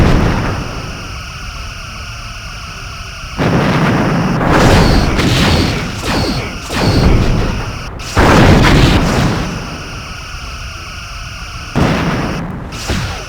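Starship phaser fire and explosions in the Star Trek Bridge Commander space combat game: loud booming blasts in several bursts over a steady whining electronic hum, with no talk.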